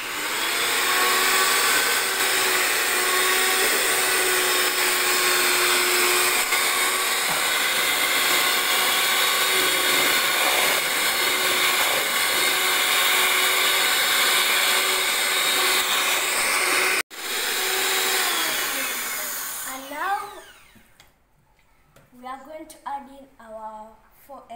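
An electric hand mixer beats vanilla cake batter after milk is added, a loud steady whirring drone lasting most of the time before cutting off, followed by a voice speaking.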